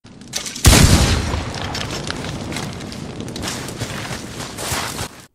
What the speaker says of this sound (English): Arthur will shoot these lanterns on his way out